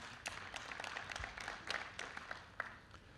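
Faint, scattered applause from a small audience saluting event staff, light irregular claps spread across a few seconds, distant and quiet.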